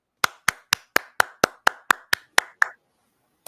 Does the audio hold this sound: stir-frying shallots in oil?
no